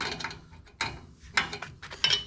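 A wrench tightens hydraulic hose fittings on a Kubota L4701 tractor during a rear remote install, giving a few quiet, close metallic clicks and scrapes spread irregularly over a couple of seconds.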